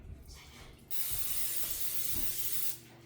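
A short, steady hiss of butter-flavored cooking spray lasting under two seconds, close and fairly quiet, with no talking.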